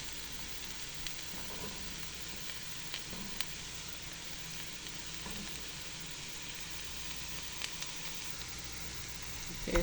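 Ginger and celery sizzle steadily in a hot pan with tofu, a soft continuous crackle that stays even throughout with faint occasional ticks and no talking.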